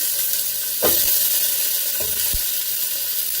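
Chopped celery sizzles in a pot for soup, a loud steady frying hiss broken by a few sharp scraping stirs, close and alone without talk.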